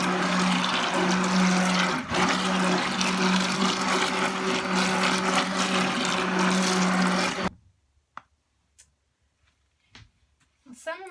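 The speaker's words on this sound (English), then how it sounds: "and then I'll blend in my lye water." A stick blender whirs loudly and steadily as lye water is mixed into a cold process tobacco soap batter with kaolin clay, then cuts off abruptly, leaving near silence broken by a few faint clicks.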